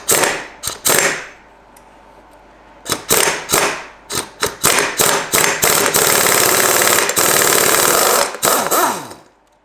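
Rapid metallic ratcheting and clunking from a socket wrench working a nut loose on the clutch of a 1991 Kawasaki KX250 dirt bike, coming in close repeated bursts with brief pauses, then a longer steady spell of cranking.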